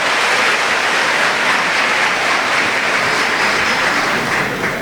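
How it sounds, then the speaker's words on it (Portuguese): Audience at a church congress applauding the children, a loud continuous roar of clapping and crowd noise sustained throughout without any speech. "Uma salva de palmas para os filhos."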